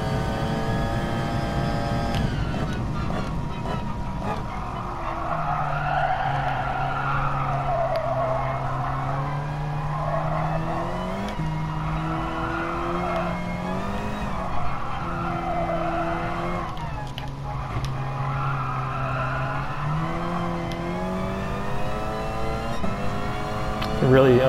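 Race car tires skid and squeal as the car oversteers at high speed in a sim racing game, a loud sustained screech with engine revving rising and falling throughout, continuous and close.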